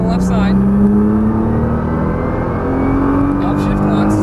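A Nissan GT-R accelerates hard on a race track, its engine note climbing steadily in a loud, close, sustained roar from the cabin, with brief voice sounds at the start and end.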